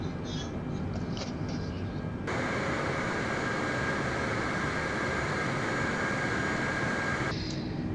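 A Qantas Boeing 747-8 Freighter taxis in Microsoft Flight Simulator at Melbourne, Australia. Its engines give a steady broadband roar with a constant whine, and the sound swells louder partway through and holds before easing back.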